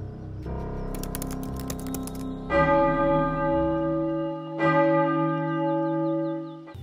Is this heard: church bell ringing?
yes